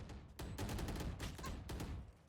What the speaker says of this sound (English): Shot and fired.